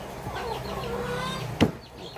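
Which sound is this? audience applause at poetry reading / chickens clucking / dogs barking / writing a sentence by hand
chickens clucking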